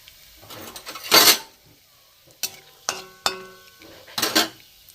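Cumin seeds, whole garam masala and bay leaf hit hot oil in a pan, giving bursts of sizzling spatter mixed with utensil clinks and stirring scrapes, close and intermittent.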